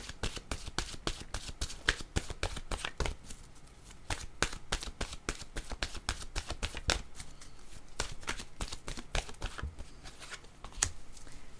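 Oracle cards being shuffled by hand, a rapid run of crisp riffling snaps in quick bursts with brief pauses between, close and fairly quiet, no talk.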